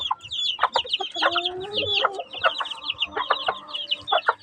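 Chickens, including free-ranging Texas-type fowl and a Talisay hen, cluck repeatedly in short bursts with a few drawn-out calls, close and fairly loud, over faint farmyard background.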